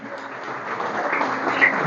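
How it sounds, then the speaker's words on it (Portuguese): A church congregation applauding together during a service, a steady wash of clapping that swells slightly toward the end. "Você pode aplaudir o Senhor."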